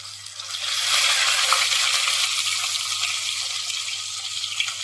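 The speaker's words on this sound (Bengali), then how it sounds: "মাছগুলো একে একে উল্টে পাল্টে প্রত্যেকটা মাছ ভেজে দেবে" Pieces of katla fish frying in hot oil for a Bengali doi katla dish give a steady, loud, bright hiss with light crackle that swells after the first second and holds to the end, with no voices.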